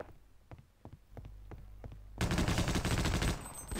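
An enemy weapon fires in Half-Life: Opposing Force, with a quick run of sharp, evenly spaced gunshots followed by a loud, dense burst of rapid fire, close and without talk.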